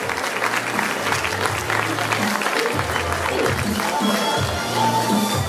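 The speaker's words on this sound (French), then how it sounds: "On peut applaudir ces belles championnes." A crowd at a prize-giving ceremony claps for women champions: close, continuous applause with scattered cheers and murmuring, while a low rhythmic music bed thumps beneath it throughout.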